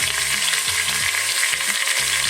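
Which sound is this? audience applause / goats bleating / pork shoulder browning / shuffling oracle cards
pork shoulder browning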